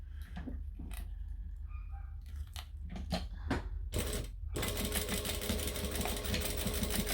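A sewing machine stitches a Selene bag, scattered handling clicks and thumps giving way to a steady, close motor whir with rapid needle chatter through the final seconds.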